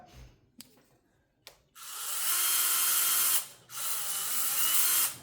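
A Snap-on Nano access driver runs with a steady high-pitched motor whine, after a few clicks. It runs continuously for about two seconds, stops briefly, then runs again at a similar, slightly slower pitch, close and clear.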